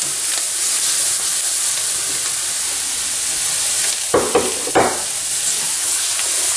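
Onions hitting very hot oil for gumbo, a loud continuous sizzling hiss with a couple of sharp bursts of crackle near the end as they are stirred, with no talking.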